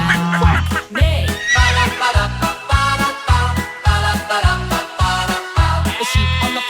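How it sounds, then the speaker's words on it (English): A horse whinnies several times over a bouncy music track with a steady thumping beat. "The horse on the farm says neigh, neigh, neigh."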